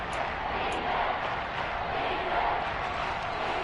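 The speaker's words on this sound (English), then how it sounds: "The crowd getting into it as we come up on a big 3rd down." An American football stadium crowd roars steadily ahead of a big third down, as a broad, dense wash of cheering at a fairly loud, constant level throughout.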